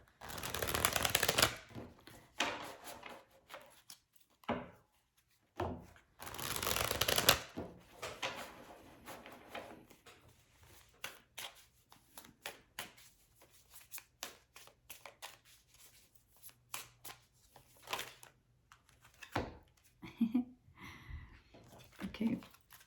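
Crisp, rapid riffling bursts of tarot cards being shuffled, repeating in uneven bouts with short pauses, close and fairly soft, ending with a few scattered flicks.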